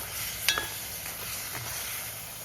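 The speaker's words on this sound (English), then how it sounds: "Yeah, man, it's a fry up, man." Meat sizzling in a hot pan during a Jamaican fry-up: a steady, fairly quiet hiss of spitting oil with a couple of sharp crackles early on.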